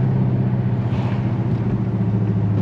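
A 2006–2010 Dodge Charger engine runs with paddle-shifter gear changes, giving a steady, loud low rumble from inside the car that holds throughout with no talk.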